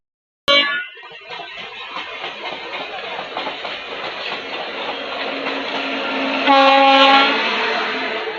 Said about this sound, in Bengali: অনেকদিন পরে না দুটো ট্রেনকে একসঙ্গে ক্রসিং হতে দেখলাম